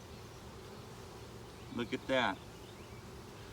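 Honeybees crowd a hive's frames during an inspection, giving a steady low buzz throughout, with a voice briefly speaking over it.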